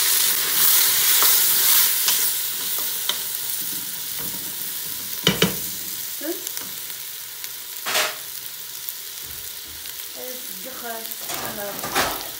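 Lentil soup stirred in a pot, with scattered scraping and clinking strokes over a steady low hiss, fairly close and fairly quiet, with no talk.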